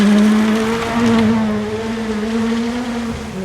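A Ford Fiesta rally car on a race stage holds a high, steady engine note near 8,000 RPM, loud and sustained with a slight dip toward the end.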